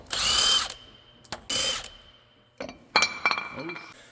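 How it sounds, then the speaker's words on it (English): A 1/2 inch drive power tool removing semi trailer hub bolts during a wheel seal repair, delivering several loud whirring bursts separated by pauses, followed by metallic clinks of loosened parts, close up. "We're gonna use a 1/2 inch drive to remove these"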